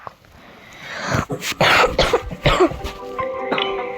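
Several harsh coughs burst out close by in quick succession, followed by a short throat-clearing rasp, with no talking.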